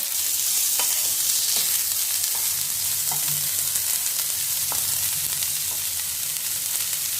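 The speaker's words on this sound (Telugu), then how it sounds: "కరివేపాకు వేసేసి కొంచెంసేపు అట్లా వేసుకుందాం" Curry leaves and onions fry in hot oil with a constant, fairly loud sizzle. Occasional light clicks of stirring break through now and then, and no voices are heard.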